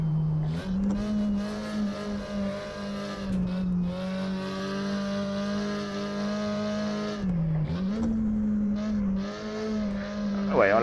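A Porsche 356 Coupé engine revs and pulls while driving, holding a steady buzzing drone that dips and climbs with gear changes, with people talking over it.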